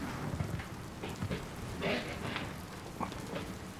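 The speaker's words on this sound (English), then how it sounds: "it's raining outside" Rain falls outside in a steady patter, with scattered heavier drops and splashes against a surface, moderately faint and continuous.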